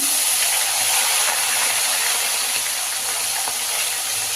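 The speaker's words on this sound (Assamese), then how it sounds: "এতিয়া মাছটো ভাজি ল'ম।" Fish sizzles in hot oil in a pan for a fish-head curry, a loud, steady, close hiss and crackle that runs unbroken throughout, with no voices over it.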